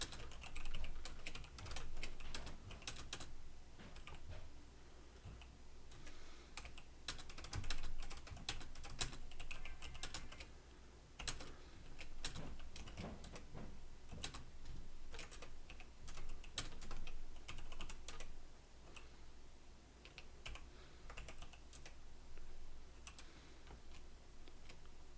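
Close, steady typing on a computer keyboard while assembly code is written, with dense bursts of key clicks and brief pauses running throughout, and no voices.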